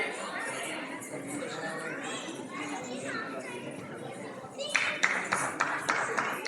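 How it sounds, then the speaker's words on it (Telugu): Audience clapping at a children's dance event, breaking out in the last couple of seconds after steady crowd chatter and children's voices, with people talking throughout. "చప్పట్లు చప్పట్లు."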